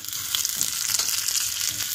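Curry leaves fry in hot oil with chopped garlic for a matar mushroom masala curry, giving a steady close crackling sizzle with small pops and no voices.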